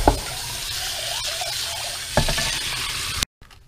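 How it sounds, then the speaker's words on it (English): Warm tap water runs steadily into a kitchen sink to drain cooked green beans, a continuous close splashing hiss with a brief louder surge partway through, then a cutoff near the end. "you have to drain it under warm water"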